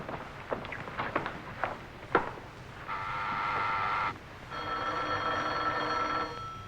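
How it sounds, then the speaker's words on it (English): An old-fashioned telephone bell rings in two long, loud bursts in a radio drama, after a few close footsteps and knocks. "Phone's ringing."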